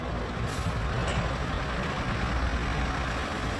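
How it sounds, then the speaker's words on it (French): A supply truck bound for Diapaga, loaded with food, rice and drinks, manoeuvres near a newly built bridge in Burkina Faso, producing a loud, steady engine rumble that continues unbroken. "Ce camion à destination de Diapaga échoue sa manœuvre."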